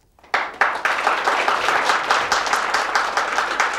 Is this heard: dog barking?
no